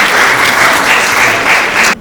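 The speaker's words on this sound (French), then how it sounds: "On va vous applaudir pour ça." Applause from an audience at a panel event at UNESCO, a dense, steady wash of clapping lasting about two seconds before cutting off abruptly.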